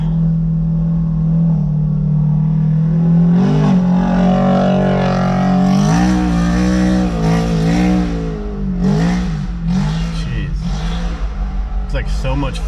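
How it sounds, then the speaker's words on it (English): A UTV climbs an off-road trail hill, its engine revving and surging close by with rising and falling pitch as people talk over the noise. "we got a UTV coming up right now"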